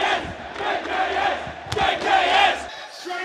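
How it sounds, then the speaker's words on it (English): Arena crowd at a Counter-Strike 2 tournament in Sydney roars and shouts in waves, a loud massed cheer with scattered whoops and a sharp clap-like spike, fading abruptly near the end. "I think the crowd supports someone."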